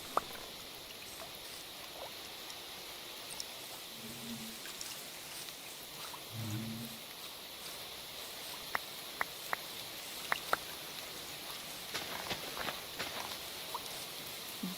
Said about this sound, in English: Now we get to listen to the rain.